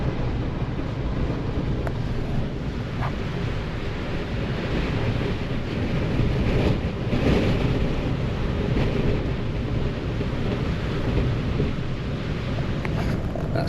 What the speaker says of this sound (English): That's the car shaking.